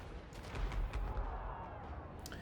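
Reaper Bolt Thrower firing in a fantasy tabletop-style battle video game, a run of dull, low booming shots clustered in quick succession, fairly loud and close, with faint voice-like sound in the background.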